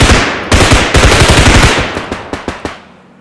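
Rapid automatic gunfire from the Bodycam shooter video game, loud and dense at first, then thinning to a few spaced single shots before the clip falls quiet.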